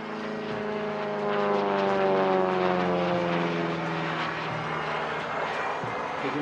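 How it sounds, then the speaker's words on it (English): A TB-30 Epsilon French military trainer and a CJ-01 mini-jet flying together at an airshow, with a loud, steady propeller engine drone that swells slightly and holds throughout, no talk. "The Epsilon is a French-designed military training aircraft usually used for basic jet training."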